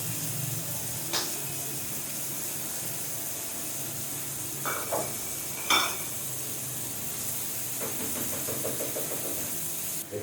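Chicken liver frying in a little oil gives a steady, soft sizzle and hiss throughout, with a few faint clicks of a utensil against the pan and no talking.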